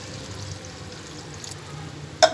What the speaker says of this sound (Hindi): ऐसे पानी डालते हैं